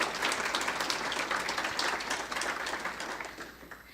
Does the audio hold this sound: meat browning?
no